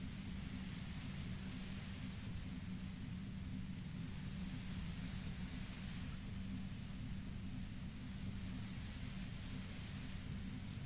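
Loud, steady broadband white noise from a compressor in the Disco Elysium video game, a constant unbroken roar filling the whole stretch with no talk.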